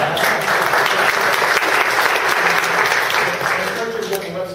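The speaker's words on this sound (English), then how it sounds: "So we can clap now." Audience at a tech talk on a NoSQL database claps, a loud sustained patter of applause with voices mixed in underneath.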